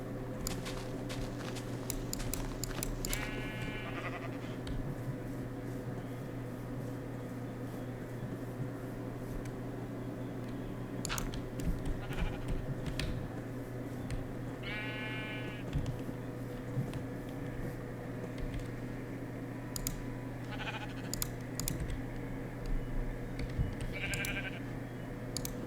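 Sheep bleat several times, wavering calls rising over a constant mechanical drone, with clicks and shuffling noises scattered throughout.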